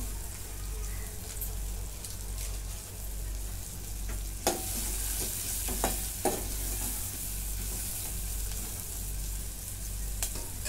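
Everest sambar masala and drumsticks roasting in a pan give a steady soft sizzle, with a few sharper stirring scrapes and taps scattered throughout; no one speaks.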